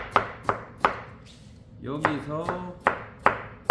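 Knife chopping Korean radish into fine julienne strips for quick water kimchi (dongchimi) on a cutting board: sharp, regular chops in steady rhythm, close up, pausing briefly while a voice speaks in the middle.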